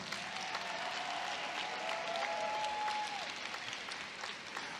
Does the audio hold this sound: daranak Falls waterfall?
no